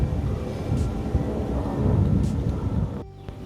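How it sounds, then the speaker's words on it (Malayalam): Strong wind blows across a mountain top at Ponn Parakunnu in Kozhikode, making a close, heavy rumbling buffet against the microphone for about three seconds before it suddenly drops away near the end. No one speaks. "ഇത്രയും കയറിയപ്പോൾ തന്നെ നല്ല കാറ്റടിക്കുന്നുണ്ട്."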